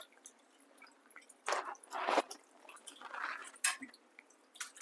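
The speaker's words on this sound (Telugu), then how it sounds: "ఇప్పుడు తినిచ్చేది వాష్ చేసుకుంటున్నాను" Mangoes being washed by hand under running water, with soft drips, splashes and squishing of wet fruit in a few bursts, fairly quiet and close, no talking.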